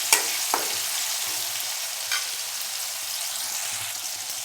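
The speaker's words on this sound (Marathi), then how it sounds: "टमाटा छान परतून घ्यायचा आपल्याला." Tomatoes sauté in hot oil in a pan while preparing a spicy radish chutney, giving a steady close sizzle with a few soft scrapes and clicks of stirring, no voices.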